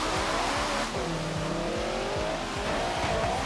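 A car engine in the video game Forza Horizon 3 revs hard and climbs steadily through its gears, loud and close for a few seconds with no talking.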